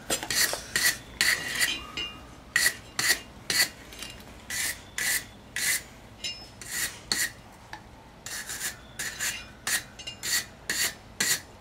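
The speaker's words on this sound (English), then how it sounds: "I'm going to brush it off and flux it." A wire brush scrubs metal clean ahead of fluxing for a forge weld on a fire poker, giving repeated rasping strokes in a steady rhythm, close and fairly loud, with no talking.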